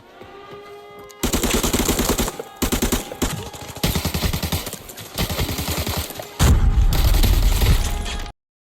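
M61 assault rifle firing in the video game Arena Breakout, loud rapid automatic bursts separated by short pauses, ending in a final longer heavy volley.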